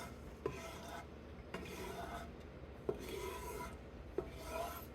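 Roux for chicken and sausage gumbo being stirred in a pot, a quiet, steady scraping and rubbing in repeated strokes with soft knocks of the spoon against the pot.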